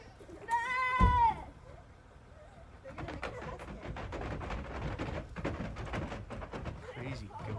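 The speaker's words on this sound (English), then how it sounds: "Crazy goats." Goats bleat nearby, one long wavering bleat standing out clearly early on, then a steady mix of bleats and rustling noise continuing beneath it.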